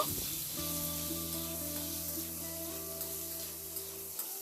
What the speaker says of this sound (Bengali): এবার আলুটাকে নাড়াচাড়া করে একটু ভেজে নেব